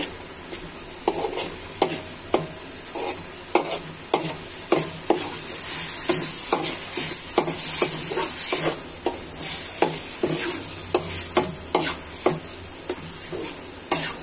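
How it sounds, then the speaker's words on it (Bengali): Spices sizzle in onion-frying oil for a Bengali fish curry, a steady hiss of frying broken by regular scraping and tapping of a spoon stirring the pan, with no talking. "মশলাটা ভালো করে কষিয়ে নিলে আপনার মাছ তরকারিটা খুবই স্বাদ হবে।"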